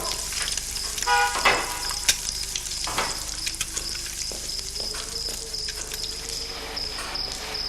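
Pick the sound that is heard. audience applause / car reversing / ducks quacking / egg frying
egg frying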